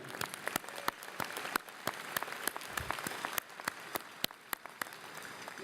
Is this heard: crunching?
no